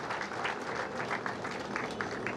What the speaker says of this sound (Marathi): एकदा जोरदार टाळ्या झाल्या पाहिजेत आपल्या या बांधवांसाठी.